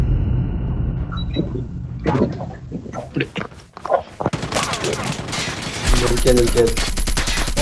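Rapid bursts of Call of Duty: Mobile gunfire on the Nuketown map crackle loudly, with several volleys and a sustained rattling stretch near the end, mixed with voices and background rumble.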